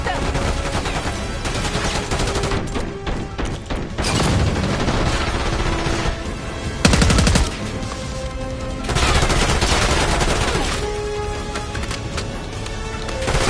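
Loud, sustained gunfire fills a Call of Duty: Black Ops 6 battle, with dense automatic bursts and booming shots layered over each other almost continuously.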